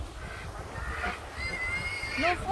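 Ducks calling at an outdoor winter snow festival, a few honking, nasal cries rising toward the end, heard at moderate distance over a low rumble of background noise.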